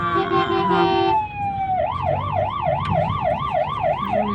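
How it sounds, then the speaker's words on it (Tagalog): A loud fire truck siren wails in Portugal, first a steady high tone that drops, then a rapid warbling yelp, nearby over traffic rumble. "Kasi may dumaan na bumbero."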